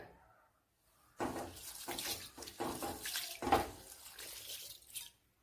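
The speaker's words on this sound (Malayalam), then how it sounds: "ഇതിനെ ഒന്ന് കഴുകിയെടുക്കുക" Horse gram is washed by hand in a bowl of water, giving a series of close, uneven sloshes and splashes after a brief quiet start, then trailing off into silence.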